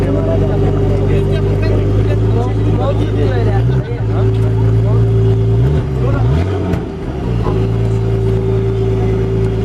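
A drift car's engine at Paşam Tuning Fest in Antalya drones loud and close, holding a steady rev with brief dips and surges as the throttle is worked, under a noisy festival crowd.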